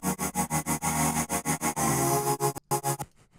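A vocal synth preset from Output's Exhale plugin plays a rhythmic chopped vocal pattern in fast, evenly spaced pulses, loud and full, ending with a brief cut and a fading tail, and no one talks.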